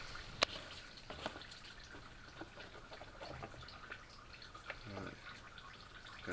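Engine oil drains and drips from the sump of a BMW E46 330i during a service, faint irregular drips and trickles in a quiet garage, with one sharper tap early on.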